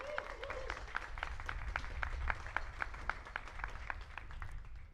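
Audience at an outdoor youth orchestra concert at Nottingham Castle claps for a performer, a steady rhythmic beat of hands joined by looser scattered applause, fairly close and continuous, with some faint voices underneath.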